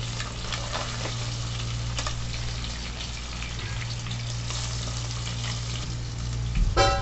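Pomfret fish frying in a pan of oil, a steady dense sizzle and crackle that holds evenly throughout, close and moderately loud, with a brief clatter near the end.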